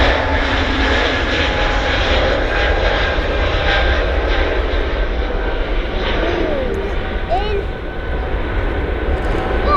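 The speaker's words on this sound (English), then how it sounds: "Aircraft these days are much quieter than when I first started plane spotting." Jet aircraft taking off from runway 05L at Manchester Airport, a loud continuous engine roar with a broad rushing hiss that holds steady, heard from nearby on the ground.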